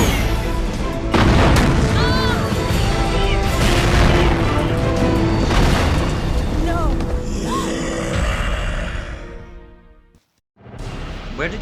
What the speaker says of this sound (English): Where did he get a new rocket launcher?